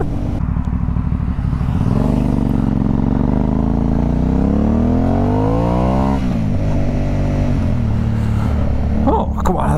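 A motorcycle being ridden roars loudly up close, its engine note climbing steadily as it accelerates through the revs, then dropping and settling into a rough idle-like rumble with wind noise.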